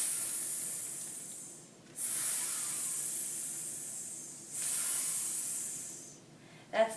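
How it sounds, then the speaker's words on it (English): Long, loud hisses repeat in several sustained bursts, each separated by brief pauses, ending with a short sharp puff of breath. "That's the meanest hiss I ever heard"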